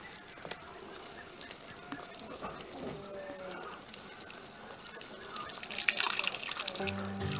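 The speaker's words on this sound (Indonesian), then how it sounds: "Kita siram dengan air bersih ya." Clean water is poured over harvested azolla plants to rinse them, giving a soft, continuous trickle that swells into a louder splash near the end, with voices in the background.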